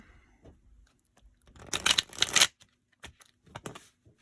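Tarot cards are shuffled in a quick riffling burst, followed by a few soft taps and shuffles, close up with no talking.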